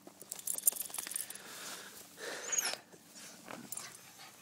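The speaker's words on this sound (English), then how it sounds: "Oh, he's a good dog." A dog moving and panting nearby with scattered jingling, clinking sounds, like tags or metal bits, and short bursts of scuffling; no talking.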